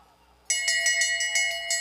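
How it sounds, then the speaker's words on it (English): Lap bell ringing at a short track speed skating race, a bright metallic bell struck in rapid repeated clangs, about seven strikes in quick succession, loud and close after a quiet moment. "There's the bell signifying the last lap for your leaders."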